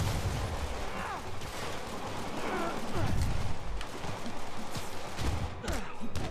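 Rapid bursts of gunfire and thuds in Marvel's Spider-Man, dense overlapping shots and impacts throughout at steady loudness amid game action noise.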